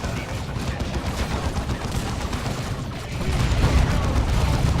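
Machine-gun turrets come under attack in the strategy game Dawn of War 2, with a dense, continuous rattle of rapid gunfire and blasts that grows heavier near the end.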